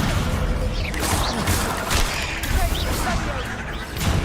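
Confringo blasting spells detonate in Hogwarts Legacy combat, a loud, dense run of explosive bursts and crackling impacts that fills the whole stretch without pause.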